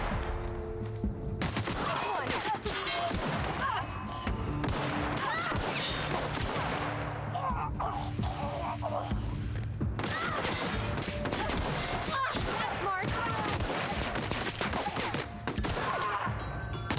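Gunfire in The Outer Worlds comes in dense, loud bursts of rapid shots and impacts, with a short lull in the middle before the shooting picks up again.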